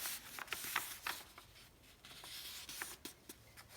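Paper being folded and creased by hand to make a wallet, with soft, close, quiet rustling and sliding strokes in short bursts and no talking.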